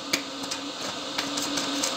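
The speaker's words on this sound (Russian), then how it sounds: "Сразу же срабатывает вентилятор." Cooling fan of a Dnipro-M welding inverter running with no arc struck, a steady whirring hum with a faint tonal drone and a few small clicks, close and continuous.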